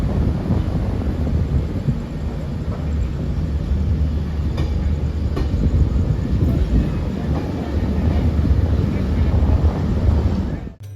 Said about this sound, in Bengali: ট্রেন ছেড়ে দিয়েছে অলরেডি,